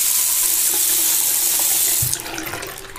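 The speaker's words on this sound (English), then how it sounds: "By magic, it seems, water comes through that faucet." Water gushes loudly and steadily from a faucet after the handle is lifted, a close hissing stream that drops to a softer flow near the end as the handle is eased.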